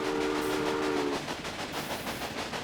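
A cattle train in the Railway Empire game rolls along with a continuous rumble, and a brief tonal whistle sounds at the start before fading into the steady running noise.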